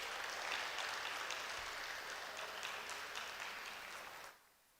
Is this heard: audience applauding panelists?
yes